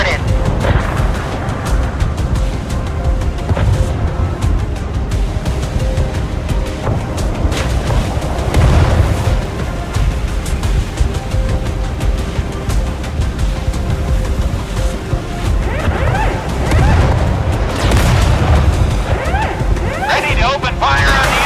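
Naval battle in a video game, with booming explosions, heavy gun blasts and crashing impacts layered into a dense, loud, continuous din while voices speak over it.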